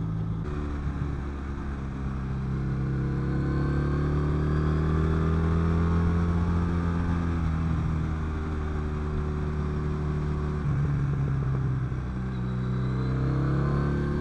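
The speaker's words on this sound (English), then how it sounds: "It is a lovely torquey engine." A Triumph Bonneville café racer motorcycle engine hums with a low, steady throb, its pitch climbing gradually as it pulls, with no voices over it.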